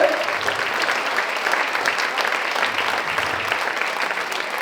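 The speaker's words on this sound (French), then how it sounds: "Je pense que vous pouvez toutes vous applaudir" Cabaret audience applauding steadily throughout, a dense wash of clapping with no pauses.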